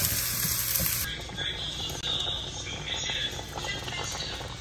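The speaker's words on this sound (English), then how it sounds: "I'm just cooking some pepper, celery, and onions" Pepper, celery and onions frying in a pan for Venezuelan cooking, a soft continuous sizzle and crackle with a few faint stirring scrapes, fairly quiet and close.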